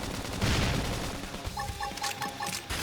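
Gunfire and explosive blasts rattle through a battle in the video game Xenoblade Chronicles X, starting with a heavy rumbling barrage and then breaking into repeated sharp bursts at moderate volume.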